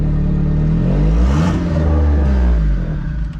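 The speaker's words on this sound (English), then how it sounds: "Spin that turbo up a little bit and then we'll shut it down." A freshly built forged 1.6-litre compound-turbo Mazda Miata engine revs loud and close, rising and falling while the turbo whirs as it spins up.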